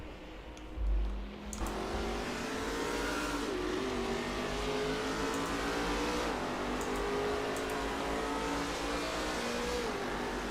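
Race cars lap Oran Park in a touring car racing video game, several engines droning and revving close together at a steady level, with rising and falling gear changes and a brief bump near the start.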